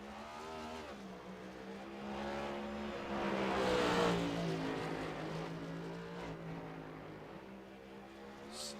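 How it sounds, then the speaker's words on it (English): Two race cars running through a Chicago street circuit in qualifying, with a steady engine drone that swells and fades as the cars pass at a distance, holding a continuous note from start to finish. "It looks like there's only two cars on track at the moment qualifying."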